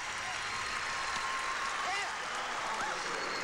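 Applause from an arena crowd greeting a men's gymnastics all-around routine at the 1989 U.S. Olympic Festival, a steady dense wash of clapping and cheering throughout with faint voices mixed in.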